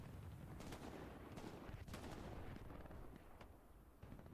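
Gunfire in Hell Let Loose during a Premier League match, several distant sharp shots and short bursts scattered over a continuous battlefield rumble, fairly faint.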